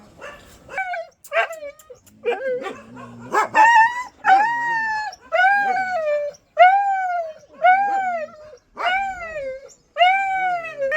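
A dog with a back injury howls again and again in long, wavering cries, mixed with sharp barks and whimpers, loud and close.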